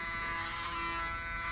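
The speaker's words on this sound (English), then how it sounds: "nice feeling when you shave someone's hair." Electric hair clippers buzz continuously and close up while shaving a buzzcut, a steady loud motor hum with slight variations as the blades move through hair.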